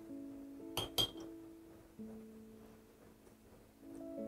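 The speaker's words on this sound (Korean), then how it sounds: "소금 넣어볼게요." Rock salt poured into a bowl of Mexican-style chopped summer salad, giving a couple of quick bright clinks and rattles against the bowl, then quieter faint handling in a calm kitchen.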